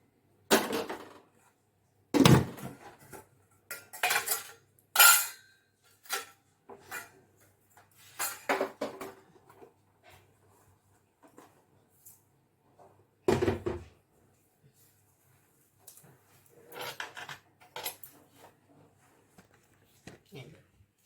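Washed dishes and pots are put away in a home kitchen: scattered clanks and knocks of utensils and cupboard sounds come in irregular bursts with quiet gaps between them, and a voice talks now and then.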